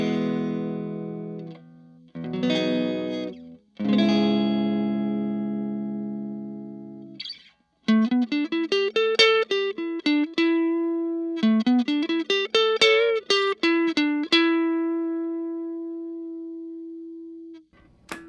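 Clean electric guitar with reverb through a Vox AC4 tube amp on the neck pickup: a few ringing strummed chords, then a run of picked single notes that sustain and fade into a long held note.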